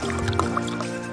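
Soda poured into a glass, a short burst of liquid splashing and fizzing drips, close and fairly loud over about a second with no talk.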